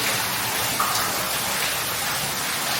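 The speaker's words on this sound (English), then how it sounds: "Now we've got to get under this waterfall here, boys and girls." Water from a waterfall at Excelsior Tunnel pours down in a steady, close hiss, alone and without speech for a few seconds.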